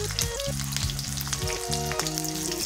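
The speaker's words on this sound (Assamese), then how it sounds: "অকণমান তেলটো গৰম হোৱাৰ লগে লগে আমি তেজপাত আৰু কেঁচা জলকীয়াটো দি দিম।" Bay leaves and green chilies fry in hot mustard oil in a pan for an Assamese potato and pea curry. A loud, continuous close sizzle crackles throughout, with background music playing over it.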